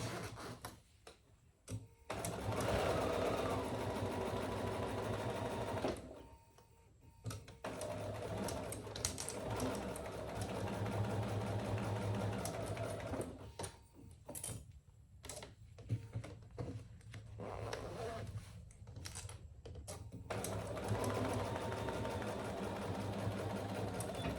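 A sewing machine stitching a seam at the pattern's seam allowance, running in steady close bursts of rapid mechanical whirring broken by several short pauses, with no voices.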